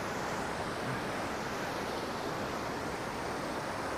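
Sea waves of the Arabian Sea at Varkala Beach roar as a steady, broad wash of surf, loud and continuous with no breaks and no voices.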